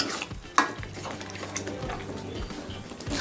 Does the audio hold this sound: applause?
no